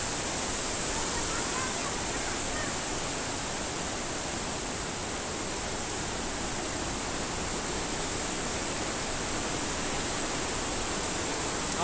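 Water rushing at Curug Ibun Pelangi, a waterfall near ancient lava walls, making a steady, loud, broadband roar that holds unchanged from start to finish.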